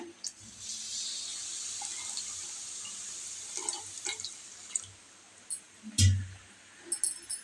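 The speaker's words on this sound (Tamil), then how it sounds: "அது முழுகிற அளவுக்கு கொஞ்சம் தண்ணி சேர்த்துக்கோங்க" A steady stream of water pours into a pan of gram flour for Mysore pak, a continuous hissing splash with a few light clinks and knocks.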